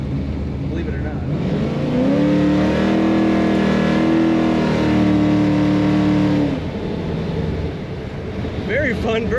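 A 1972 Chevrolet Nova's V8 pulls down the road, engine note rising through acceleration for several seconds and then easing off, heard loud from inside the car.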